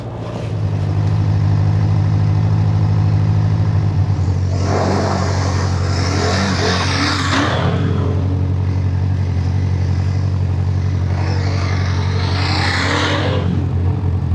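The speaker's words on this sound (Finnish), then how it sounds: "Traktori käyntiin." A tractor engine starts and settles into a loud, steady low rumble near the listener, with rougher bursts of engine noise swelling over it twice.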